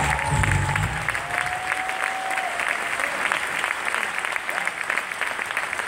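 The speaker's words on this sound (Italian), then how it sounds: "Un applauso a tutta questa fantastica equipe" An audience applauds at an Italian voice and art event in Turin, with steady, dense clapping throughout; a voice speaks briefly at the start, and a faint tone sounds beneath the claps.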